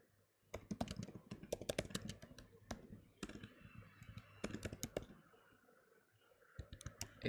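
Code being typed on a computer keyboard: sharp, close key clicks in rapid irregular bursts with short pauses between runs, loud and crisp over near silence.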